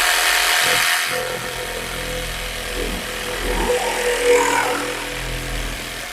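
A Procraft RS20A cordless reciprocating saw cuts through plastic at low speed, a steady buzzing motor drone with rasping blade strokes that swell and shift in pitch as the cut proceeds, loud and close.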